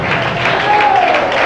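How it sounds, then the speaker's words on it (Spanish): A church congregation applauds during a sermon, a short burst of dense clapping mixed with crowd voices. "Dale un aplauso al Dios"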